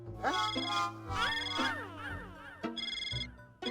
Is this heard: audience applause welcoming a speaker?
no